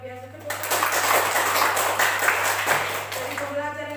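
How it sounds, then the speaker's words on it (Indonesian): Classroom applause during a teaching practice lesson, a steady dense patter of many hands clapping for a few seconds over a constant electrical hum, fading into room tone at the end. "Luar biasa, tepuk tangan"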